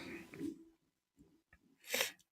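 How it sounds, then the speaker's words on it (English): A single sneeze bursts out near the end after a few quiet breaths, close and fairly sharp. "I feel like I'm going to sneeze."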